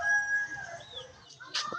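A fighting gamecock, tethered by its leg for the first time, gives a few short clucks and a brief strained crowing call, close by and with no talk over it.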